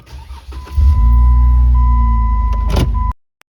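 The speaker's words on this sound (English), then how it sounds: "So I'm going to start the Jeep and put it in drive." A Jeep Wrangler JK engine cranks and catches, settling into a loud, steady idle close by for a few seconds before cutting off abruptly.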